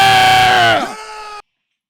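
A man screams loudly and at length while watching a Spurs basketball game at home, a raw sustained yell that breaks and fades before cutting off abruptly.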